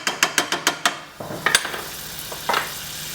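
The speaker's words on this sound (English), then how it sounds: "Butter in your pan." Butter melting in a hot frying pan while poached eggs with spinach and mushrooms are being made, heard as a brief close sizzle and crackle after several sharp metallic knocks of utensils against the pan.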